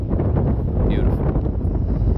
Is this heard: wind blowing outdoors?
yes